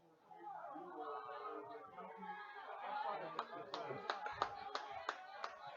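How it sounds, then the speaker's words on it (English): A football crowd at a CSU-Pueblo at Fort Lewis game murmurs and chatters, then scattered handclaps break out, a sparse, irregular smattering of applause heard from a distance. "the fans starting a smattering of applause"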